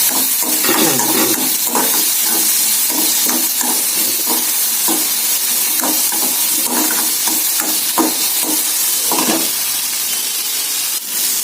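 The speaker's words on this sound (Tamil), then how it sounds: "தக்காளி போட்டிருக்கேன் கொஞ்சம் வதக்கிடலாம்" Chopped tomato sautés in a hot pan for mint chutney, giving a continuous loud sizzle broken by repeated scraping strokes of a spatula as it is stirred, with no talk.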